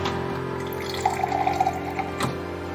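Water is poured into a drinking glass, giving a brief trickling splash with rising bubbly tones over a steady hum, ending with a soft knock.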